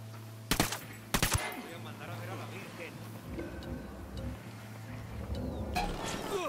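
Squad gunfire in Ghost Recon Wildlands opens with two sharp, loud bursts close together, then a rumble of distant shots and engine noise, with voices talking through it.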